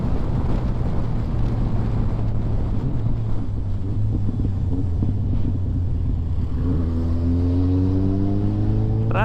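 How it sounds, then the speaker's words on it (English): Steady highway traffic roar beneath wind buffeting on a motorcycle group ride, with a constant low engine drone and a vehicle's rising engine whine passing close near the end. "Traffic on the highway"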